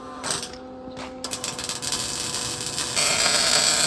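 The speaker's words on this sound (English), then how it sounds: "Welding it up on the inside here" Welding inside the channel of an RV chassis hitch box makes a buzzing, crackling hum that starts after about a second and holds steady, growing slightly louder toward the end.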